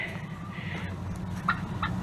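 Turkeys in muddy pens gobble and chatter steadily in the background, a continuous low flock murmur with a few brief higher calls.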